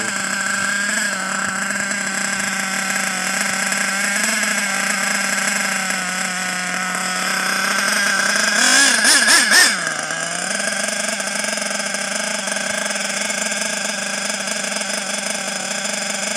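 A small nitro model engine runs on at a steady high-pitched idle, briefly warbling and surging midway before settling back into its constant buzzing drone, close and alone.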